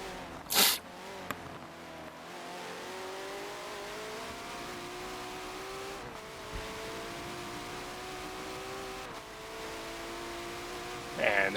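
Audi race car in an endurance racing video game on the Nürburgring Nordschleife, its engine droning steadily and climbing through the gears, with brief sharper bursts near the start and end.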